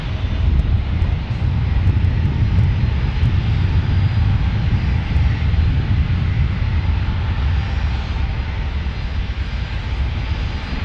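Lone Star 1, an airplane taking off in San Diego, gives a steady, loud, broadband engine roar that holds for the whole stretch, with wind buffeting the microphone and no talking.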